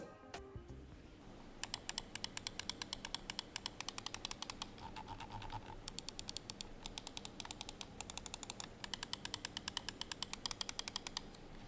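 A Fantech Helios II XD3V3 gaming mouse with TTC Gold Optical switches is clicked in rapid, crisp runs of dozens of presses, close and clear, with short pauses between bursts and no voice.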